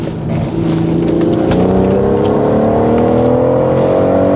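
A BMW's loud engine revs and climbs steadily in pitch as it accelerates hard on a race track, a continuous close roar.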